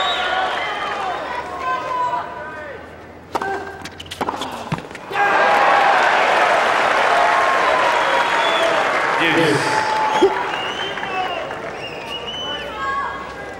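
A tennis crowd at the Key Biscayne semifinal between Agassi and Rios bursts into sustained applause and cheering after a double fault, preceded by a few sharp claps and bounces, with a commentator speaking over it.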